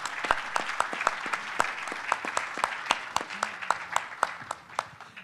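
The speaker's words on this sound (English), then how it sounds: "We can give them a round of applause again" Audience at a manufacturing round table clapping in a sparse, fairly slow rhythm, with distinct individual claps from a small crowd that keep going evenly throughout.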